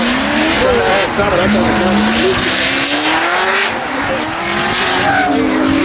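A drift car spinning through a zone at a drift event, loud sustained engine roar with rising and falling pitch and continuous tire squeal, a commentator talking over it.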